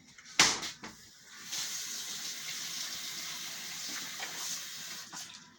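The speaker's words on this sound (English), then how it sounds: "First, you want to soak them or wet them in water." Potatoes are wetted under running kitchen tap water, a soft steady splash and trickle after a brief sharp clatter at the start, fairly faint and with no talking.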